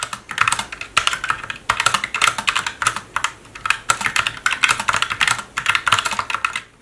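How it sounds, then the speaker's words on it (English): Typing on a Roccat Vulcan II Mini keyboard with linear optical switches, a close, brisk run of clattering keystrokes in quick bursts with short pauses between them. "These optical switches feel and sound like other linear mechanical switches, if not slightly quieter."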